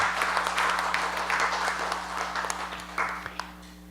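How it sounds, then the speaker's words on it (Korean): Church congregation at a Sunday service applauding to welcome a new member, with a steady wash of clapping across the room that continues throughout and fades slightly toward the end. "다시 한번 박수로 환영하겠습니다."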